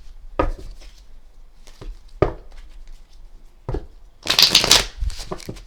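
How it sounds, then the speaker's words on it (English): Tarot cards being shuffled by hand in several quick, crisp bursts spaced a second or so apart, followed by a longer, denser riffle near the end, close and fairly loud. "Give it a little bit more good shuffle here."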